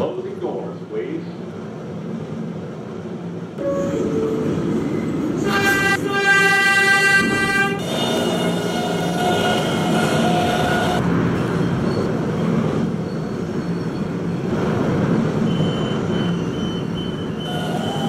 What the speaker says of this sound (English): This is a Potatoburg bound 11 local train.